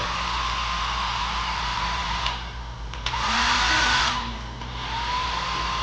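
A Nova hair blower runs at a steady, loud, breathy whoosh that holds without a break. Its airflow swells slightly partway through as the blower shifts, then settles back to an even roar.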